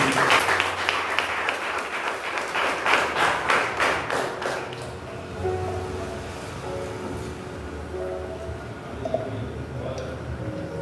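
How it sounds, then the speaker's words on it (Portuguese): Church congregation clapping joyfully to welcome the pastor at his farewell sermon, brisk rhythmic claps for about five seconds that then stop, leaving a quiet room with talking. "Receba o pastor, o servo do Senhor, com palmas bem alegre para Jesus."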